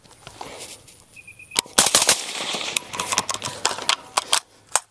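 A rifle fitted with a Franklin Armory binary firing system fires a fast burst of loud, sharp gunshots at close range, cracks coming in quick irregular clusters after a quieter lead-in, with no talk.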